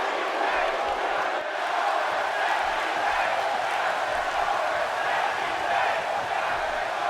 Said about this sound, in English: It sounds like the crowd is hot for this main event